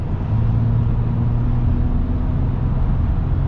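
A 2023 Ram 1500 Laramie Night Edition Eco-Diesel pickup accelerates at partial throttle, a steady low diesel drone with a slowly rising tone, heard from inside the cab without talk.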